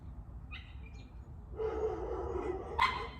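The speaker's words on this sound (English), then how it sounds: "This dog." A dog stuck halfway out a broken glass window gives a couple of short, faint barks separated by quiet stretches, with rustling between them.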